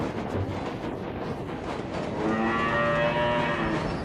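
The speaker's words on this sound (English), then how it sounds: "But it was just a cow in a field." A cow in a field lows with one long, deep moo that swells midway and fades out, set against a rough outdoor background, with no voices.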